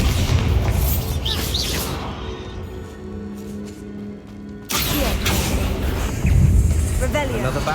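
Bombarda spell blasting a barricade in Hogwarts Legacy, a loud booming burst with crashing debris, followed by a quieter stretch and then renewed game ambience and effects, with a voice speaking over parts of it.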